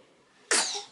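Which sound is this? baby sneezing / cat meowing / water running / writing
baby sneezing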